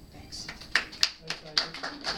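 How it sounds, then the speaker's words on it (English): One person clapping hands in a quiet room, about eight sharp claps at a steady pace, close and fairly soft. "I'm just gonna clap for him just now"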